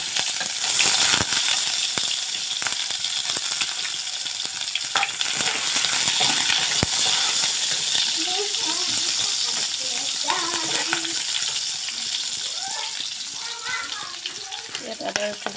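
Onions sizzle in hot oil in a kadai, a loud, steady crackling fry that continues throughout, with a voice speaking softly over the later part.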